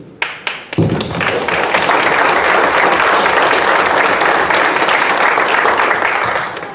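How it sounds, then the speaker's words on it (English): An audience at a village board meeting applauds the police chief and staff; a few loud thumps open it, then full, sustained clapping fills the room at close range until the end. "Chief White, and staff, we applaud and thank you."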